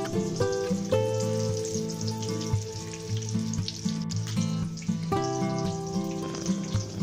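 Chiles rellenos fry in hot oil, making a continuous crackling sizzle with bursts of spattering, close and steady, while a tune plays in the background.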